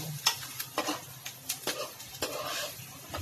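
Vegetables cook in coconut milk in a home pan, a low sizzle running underneath while a utensil scrapes and stirs in irregular clinks and strokes, close and fairly quiet.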